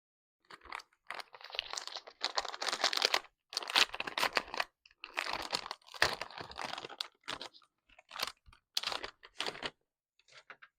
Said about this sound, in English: are we ready for the rustling?